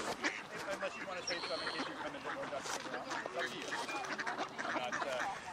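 Ducks quacking at a bog, several birds calling in a busy, continuous jumble close by, with people talking over them.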